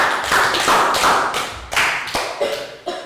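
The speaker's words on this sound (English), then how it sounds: "Round of applause" Year 3 class applauding, a dense burst of children's clapping that tapers into a few separate claps near the end, fairly close and with no talking.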